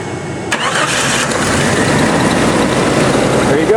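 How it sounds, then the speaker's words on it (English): A truck engine cranks and catches after a fuse relay is touched to bypass a broken ignition switch, then runs loud and steady, roaring close by for several seconds. "That'll get your truck running for you."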